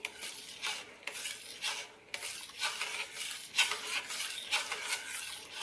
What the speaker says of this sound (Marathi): अजून 2 मिनिट याला आपण छान हलवून घेऊया.